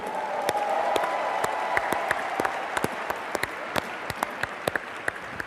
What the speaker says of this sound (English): How about a big round of applause for our corporate team?